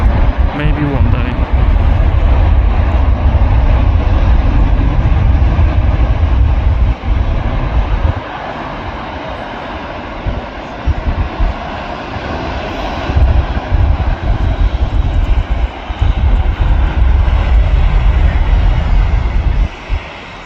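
A Hainan Airlines airliner turns and takes off at an airport, its jet engines producing a loud, sustained roar that swells and eases, with voices talking over it.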